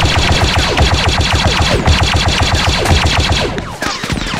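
Rapid automatic gunfire in the Star Wars video game Galactic Contention on the Kavado map, loud, continuous bursts of closely spaced shots with echo, briefly pausing near the end before more shooting.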